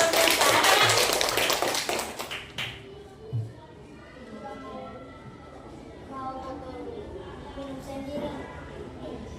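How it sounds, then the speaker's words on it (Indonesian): Schoolchildren in a fourth-grade classroom clap their hands in a burst of quick, crisp claps lasting a couple of seconds, then a voice talks over a quieter room. "Coba tepuk tangan."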